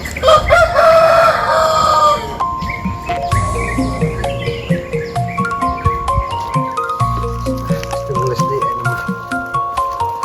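A rooster crows, with clucking fowl and dripping sounds nearby and people talking in the background.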